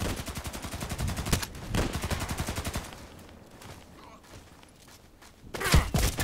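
Automatic fire from an SVU-AS sniper rifle in the shooter game Contract Wars: rapid, loud bursts of shots in the first three seconds, a quieter stretch with thuds, then another loud burst near the end.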